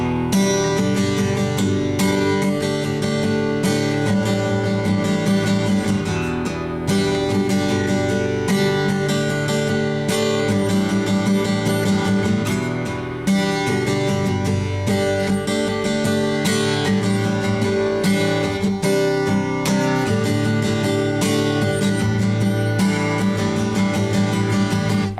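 Guitar chords of a song are strummed through a verse in a steady, dense rhythm over a full mix, loud and continuous with no talking.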